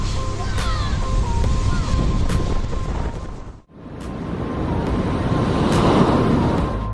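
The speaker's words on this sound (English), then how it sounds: "The waves out at sea may be majestic, but the ones crashing at Wells Beach are determined to steal the spotlight." Surf crashing onto the shore at Wells Beach, a steady broad roar of breaking waves with wind buffeting the microphone, dropping away briefly midway before building again.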